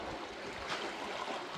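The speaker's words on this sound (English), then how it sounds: "You could just listen to the water all day" Gentle water laps steadily at the storm-damaged boat ramps along the inside edge of Dock Street in Cedar Key after a hurricane, a soft continuous wash close by with no voices.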